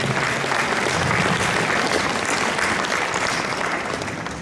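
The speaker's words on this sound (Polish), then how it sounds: "Wielkie brawa." Audience applause at a 40th-anniversary municipal jubilee ceremony in a Polish commune hall, a steady, dense wash of many hands clapping that holds loud and even throughout, easing only slightly toward the end.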